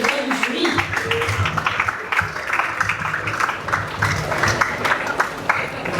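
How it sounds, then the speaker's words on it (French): An audience at a school literary and patriotic competition launch applauds steadily, a continuous patter of many hands clapping at moderate loudness with crowd murmur underneath. "Un tonnerre d'applaudissements,"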